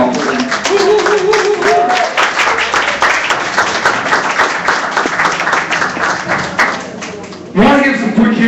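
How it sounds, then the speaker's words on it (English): Audience at an evening event at Cabana in St. Louis breaks into a loud, sustained round of applause, dense clapping that rises and holds before a voice cuts in near the end. "give yourself a well-deserved round of applause for the hard work you all put in"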